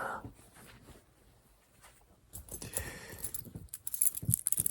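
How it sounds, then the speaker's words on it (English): Keys jangle and rattle as someone fumbles with a bunch of them close up. The metallic clinks come in irregular bursts that grow busier toward the end. "you know that sound when you're fumbling around with your keys?"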